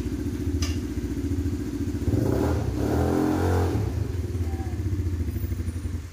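The engine of a 200cc G-Force ATV with automatic transmission idles with a rhythmic low putter, then revs up for a couple of seconds as it drives forward before settling back to a steady chug.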